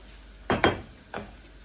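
Prawn fried rice with spring onions being stirred in a hot pan on a gas hob, with two close scraping clatters and then a softer third stroke over a quiet background.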